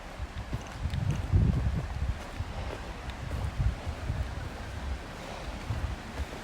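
A river flows past a pull-off at Aspen Glade campground, a continuous rushing, churning wash of water mixed with gusty wind buffeting the microphone, loud and close.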